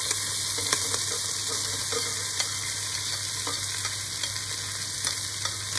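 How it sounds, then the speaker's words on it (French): Onions tipped into browning lardons in a hot pan for a chicken blanquette, giving a steady, loud sizzle with a few soft stirring clicks and no talking. "Les lardons un petit peu rissolés, je rajoute les oignons."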